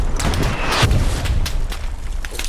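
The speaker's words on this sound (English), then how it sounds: "Clears the house with a rocket into the door." A rocket hits a house door in the World War II shooter Hell Let Loose on console: a muffled boom with rumbling debris and scattered distant gunfire around it.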